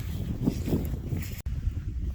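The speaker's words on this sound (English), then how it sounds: "Man, it's windy." Steady, rumbling wind buffeting the microphone outdoors in a pasture, loud and low, with gusty swells throughout and a brief dropout near the middle.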